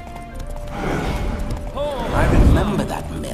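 Roach, a horse in the video game The Witcher 3, spooked by ghosts, lets out a rising, wavering whinny over dull thuds and ambient rumble, with a voice speaking beneath it.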